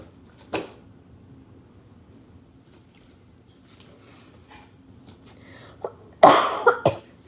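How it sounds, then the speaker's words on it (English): A person coughs indoors: a single cough early on, then a cluster of loud coughs near the end, with quiet room tone between. "I cannot get rid of this cough."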